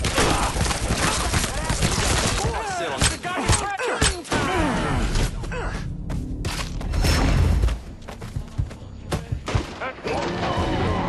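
Shotgun gunfire in the video game Mafia III: repeated heavy blasts and crashing impacts mixed with dense game noise, with a voice talking over parts of the action.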